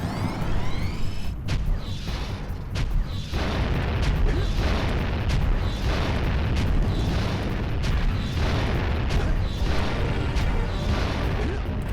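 A boss in Jak and Daxter: The Precursor Legacy fires a salvo of shots in Mountain Pass, a rapid series of loud booming blasts and impacts arriving at a regular rhythm over a continuous rumble.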